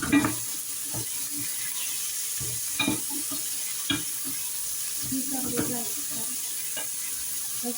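Curry fries in a pan with a steady, bright sizzle throughout, broken by scraping stirs and clinks of a utensil against the pan.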